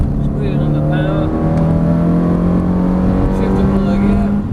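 A Ferrari sports car engine drones loudly and steadily as it accelerates out of a turn, pitch slowly rising, with someone talking over the noise.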